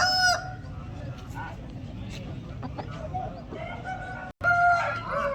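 Roosters crow loudly at the start and again at the end at a busy Sunday country chicken market in Vijayawada, with clucking and a voice talking through the steady crowd noise between.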